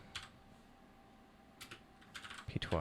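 Bursts of computer keyboard typing while entering a Python command in a Linux terminal, with a clatter near the start, a pause, then quicker irregular keystrokes building toward the end.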